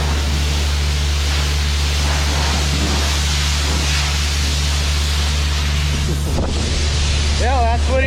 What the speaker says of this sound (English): blowing out the cobweb and all the dust